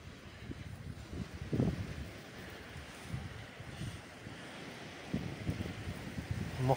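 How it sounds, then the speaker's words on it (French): Strong wind buffets the microphone outdoors among ruins, a steady low roar with gusty surges and rumbling bursts throughout, close and loud, with no voices. "Il y a beaucoup de vent."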